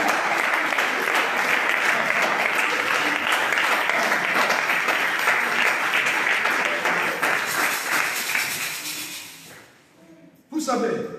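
A church congregation at an evangelical sermon breaks into sustained, dense applause that fills the space for about nine seconds. It then fades, and a short burst of clapping returns at the end.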